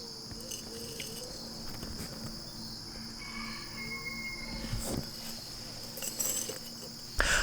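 Crickets chirp steadily in a continuous high, shrill drone beside a cricket trap outdoors, with a few soft rustles and knocks near the end.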